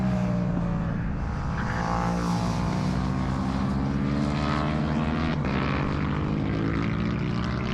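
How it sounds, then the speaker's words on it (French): Racing motorcycles at an FSBK championship round scream past at full throttle, a loud, sustained high-revving engine wail with shifting pitch from a machine pushed hard on track. "celui qui passe, là, qui la met dans tous les sens, il exploite toute la moto"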